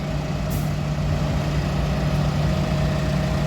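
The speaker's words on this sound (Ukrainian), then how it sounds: "А он і наш автобус їде." A bus engine rumbles steadily and loudly throughout as it approaches a stop in the Netherlands, with a brief hiss of air near the start and no voices.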